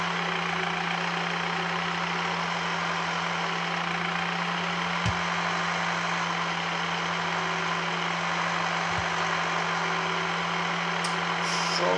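Steady vehicle engine drone from a farm machine driving toward a field in Farming Simulator 19, a constant low hum running unbroken and alone with no talk over it.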